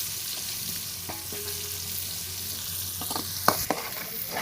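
Onions frying in oil in a pan for a fish and potato curry, with a steady bright sizzle throughout and a few stirring scrapes and clinks near the end.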